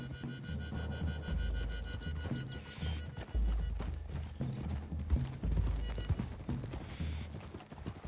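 Horse hooves clip-clop in an uneven, continuous rhythm at moderate distance in the video game Red Dead Redemption II, with soft rustling and occasional low thuds in the background.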